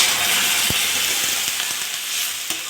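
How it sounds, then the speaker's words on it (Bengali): Water added to a hot pan of tomato and salt masala for a bean and potato curry with fish, giving a steady, fairly loud hissing sizzle punctuated by a few sharp knocks of a spoon, with no talk. "এবার জল দিয়ে দেবো।"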